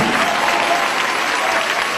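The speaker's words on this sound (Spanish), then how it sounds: "Ese aplauso sea para el Señor Jesús." Steady, dense clapping from a church congregation during a religious testimony, even in loudness throughout a brief two-second stretch.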